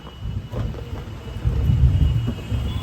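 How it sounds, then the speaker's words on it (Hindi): Thunder cracking and rolling during a storm: deep, heavy rumbles that swell and fade, with a louder surge in the second half, over the hiss of rain. "बिजली कड़क रही है"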